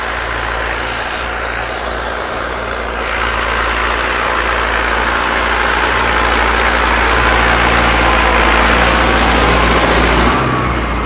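A Mahindra Arjun Novo 605 4x4 tractor with a 57 hp turbo diesel engine runs loud and close, a steady heavy droning rumble that holds throughout with no talking.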